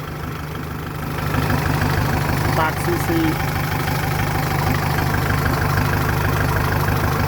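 A Kubota tractor engine fitted with a D-Max turbo idles steadily with a low, rough exhaust drone, while a person speaks over it.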